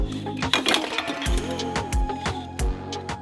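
A shock absorber from a wrecked 2022 BMW 218i drops free once its last bolt is out, giving sharp metallic clanks and rattles followed by a few thuds, close up with no talking.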